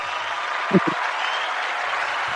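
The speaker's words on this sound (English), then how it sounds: "Let me give you some applause" Applause from a talk-show audience, a steady broadband wash of clapping lasting the whole stretch, with a couple of brief low thumps near the start and no voices.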